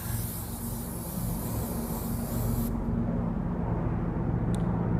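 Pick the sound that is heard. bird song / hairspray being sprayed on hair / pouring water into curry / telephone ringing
hairspray being sprayed on hair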